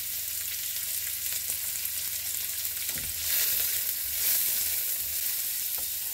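Onion, shallot and garlic fry in hot oil in a pan, giving a steady, close sizzle with brief swells as the pieces are stirred, with no talking.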